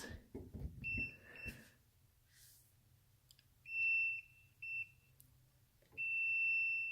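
Several high, steady electronic beeps from a voltage tester at a live outlet sound close by, the last one held longer, after some brief handling noise at the start.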